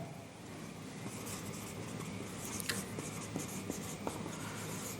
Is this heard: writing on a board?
yes